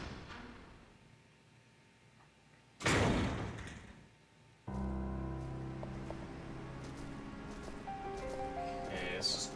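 A door opening in the video game Resident Evil Zero: a loud burst of creaking, scraping noise, followed by a sustained low rumble and eerie ambient tones, with no talking.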